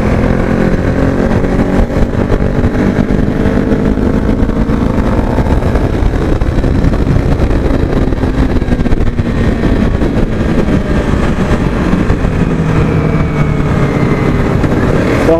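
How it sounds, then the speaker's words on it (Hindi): A Kawasaki Ninja fitted with a Yoshimura dual exhaust rides along a highway, giving a steady engine drone mixed with rushing wind and road noise throughout, with no speech. "इसमें भी भाई योशिमोरा का एग्जॉस्ट लगा हुआ है ड्यूल फेस।"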